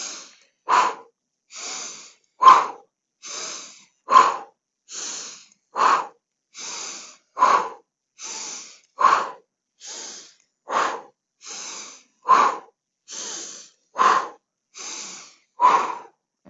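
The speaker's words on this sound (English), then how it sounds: "the pumping breath is a big, really pumping, breathing deep down into your lungs" Deep rhythmic pumping breaths during a mobility exercise, about twenty forceful inhales and exhales alternating in a steady even beat, close and loud with no talking.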